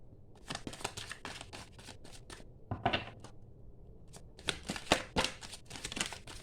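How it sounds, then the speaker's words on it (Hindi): Tarot cards being shuffled by hand, soft rapid riffling and flicking in quick bursts with a short pause midway, faint and close, with no voices. "Let me shuffle them first."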